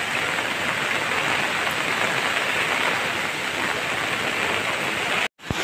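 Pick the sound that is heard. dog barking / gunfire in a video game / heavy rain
heavy rain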